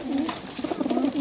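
Pigeons coo close by in a few soft, low throaty calls, some overlapping, over a quiet background.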